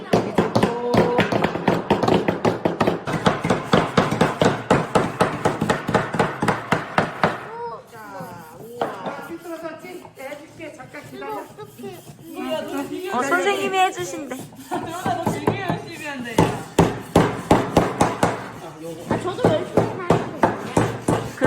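Children hammer nails into wood at a woodworking class, a quick run of sharp, steady taps close by, then a pause filled with children's and adults' chatter before the irregular knocking resumes.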